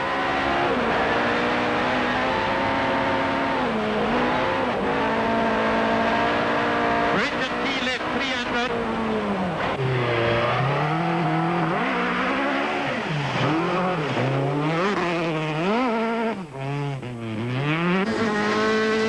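Onboard the Sasol Volkswagen Golf rally car on a 2003 Tour Natal stage, the engine revs rise and fall steadily through gear changes with tyre noise, loud and continuous, while a voice speaks over it.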